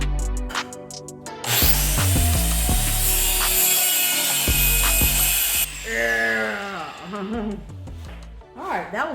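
A loud power saw cuts wood pieces for a frame: a long, steady whining cut with rattling mechanical bursts, followed by a voice speaking close by as the blade winds down.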